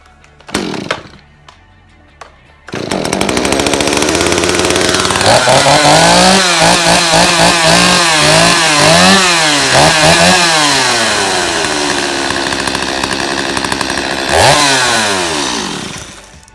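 A freshly sharpened chainsaw that had sat unused on a garage floor is pulled twice, fires up and runs loudly, its engine revving up and down several times before settling into a steady close roar.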